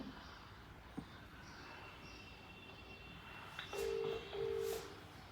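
A phone call is being placed, with two short, steady electronic tones sounding near the end after faint background hiss, quiet overall and without speech.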